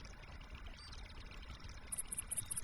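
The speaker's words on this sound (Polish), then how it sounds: "Ciekawe, dokąd uchodzi woda z takiej wysokości." Water pours from a height in a video game, a steady faint rushing stream heard alone, with a few small bright chiming blips near the end.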